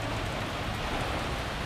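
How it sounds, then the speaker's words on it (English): Heavy rain pours steadily during a passing storm, a dense, constant hiss of drops on surfaces heard alone at moderate loudness. "Raining pretty good."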